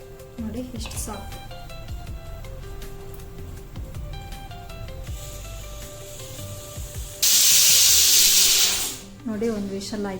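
A pressure cooker on a stove, cooking kara pongal, lets out one loud, steady hissing whistle lasting about two seconds near the end. Kitchen clatter and a speaking voice come before it.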